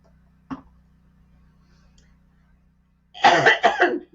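A single short cough, then after a pause a louder pair of harsh coughs close to the mic.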